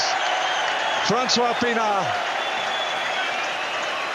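Broad, steady roar of a large stadium crowd cheering and applauding at a rugby match against New Zealand in Johannesburg, sustained throughout beneath a commentator's voice.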